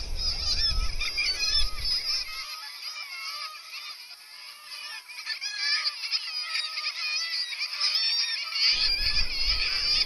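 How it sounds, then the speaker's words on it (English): Kittiwakes calling from a sea cliff in Angus, a dense, continuous colony chorus of high, nasal gull cries layered over wind and low rumble, fairly close and loud throughout. "you can hear them going kittiwake, kittiwake."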